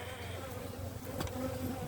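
Honeybees hum at an open hive, a faint, steady buzz of many wings close by with no pauses over a couple of seconds.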